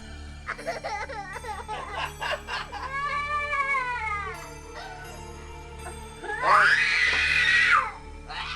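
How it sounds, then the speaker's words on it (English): A young child squeals and screams in bursts, rising to a loud, high shriek near the end, with a steady background hum. "Let's hear you scream louder"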